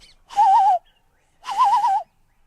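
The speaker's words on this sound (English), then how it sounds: "That bird back there." Two loud, close bird calls, each a wavering warbled note lasting under half a second, separated by a brief silence against a quiet background.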